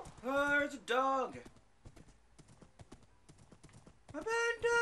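Rhythmic horse hoof clip-clops in Minecraft, with a singing voice rising over them at the start and end; the hoofbeats run steady and close in between.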